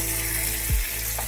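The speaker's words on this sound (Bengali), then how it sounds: "মোটামুটি কিন্তু পটলটা ভাজা হয়ে গেছে, আর একটু ভাজা হবে।" Pointed gourd (potol) frying in plenty of oil, a steady close sizzle with a brief louder stir or turning sound partway through, no voices.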